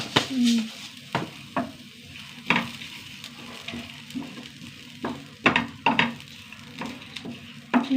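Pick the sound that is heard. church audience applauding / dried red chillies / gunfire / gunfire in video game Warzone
dried red chillies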